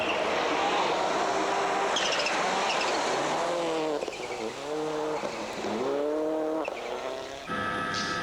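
Subaru rally car racing through a special stage on Rally Sweden, engine revving up and down through repeated gear changes, loud and close, with commentary over it.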